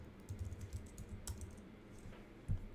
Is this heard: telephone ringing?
no